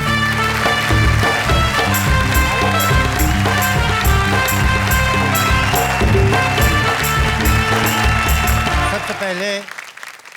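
Audience applause fills a stage show of comic poetry, mixed with loud band music, while a voice speaks briefly over it before everything cuts off near the end.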